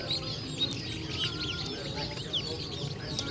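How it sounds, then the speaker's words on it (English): Baby chicks, golden sex link, peep in a brooder under a heat lamp alongside ducklings, with several short, high chirps scattered through a soft, steady background hum. "We got more little chicks here."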